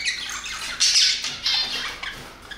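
A budgerigar plays with its toy, giving a run of close, shrill squawks and chattering chirps that rise and fall over a couple of seconds, with no voices.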